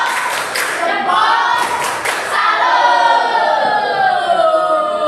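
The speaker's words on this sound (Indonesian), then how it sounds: "Boleh tepuk salut" A classroom audience claps a salute clap after an ice-breaking game, a few bursts of rhythmic clapping over lively crowd noise and voices, with talk mixed throughout.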